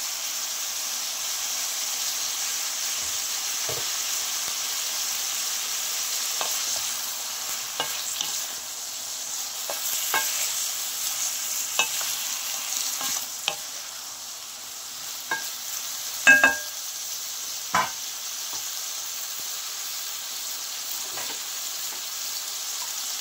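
Bottle gourd curry with a little ginger paste sautéing in a pan, a soft continuous sizzle and hiss with scattered spoon scrapes and clinks, one louder clatter near the middle.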